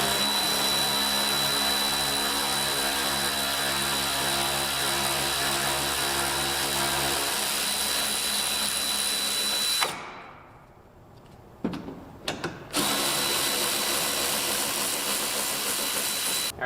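A power tool whirs steadily while loosening 10mm headlight bolts on a Dodge Ram 1500, then cuts out, followed by a few short bursts and a resumed whine, close and fairly quiet.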